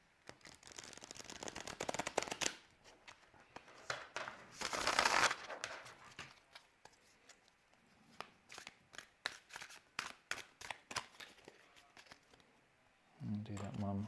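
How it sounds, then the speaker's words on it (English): Tarot cards riffle-shuffled by hand: a long run of quick, close flicking riffles, repeated several times with crisp papery bursts, and a short muffled rumble near the end. "Let's give these cards a bit of a riffle shuffle."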